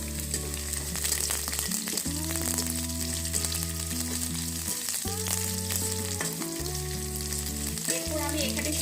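Green chillies go into onions frying in oil in a pan, a steady loud sizzle with stirring scrapes, for a Bengali dried-fish (chela shutki) chorchori with kochur loti and jackfruit seeds.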